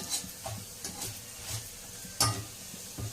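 Garlic, ginger and tamarind seed roasting in a pan give a soft, steady sizzle with rhythmic scraping stirs and a louder clink near the end, close and without talk.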